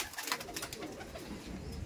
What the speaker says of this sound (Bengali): ফুলশিরাই পায়রা, এটা মাদি পায়রা আছে।